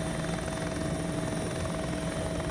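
Video game helicopter hovering: steady rotor chop and engine drone, loud and continuous, with no talking.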